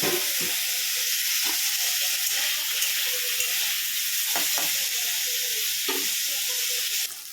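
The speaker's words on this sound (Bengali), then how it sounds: "সেই তেলের মধ্যেই আমি এখানে মশলাগুলো দিয়ে দেবো মশলাগুলো দিয়ে মশলাগুলো হালকা করে একটু ভেজে নেব" Spices sizzle and fry in hot oil in a pan or kadai for a chicken dish, a steady broad hiss running throughout with occasional stirring scrapes, close and loud, no voices.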